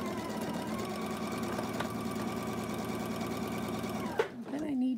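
Close and steady, a sewing machine hums as it stitches quilt pieces for a flying geese heart block, running without pause before stopping with a brief clatter near the end.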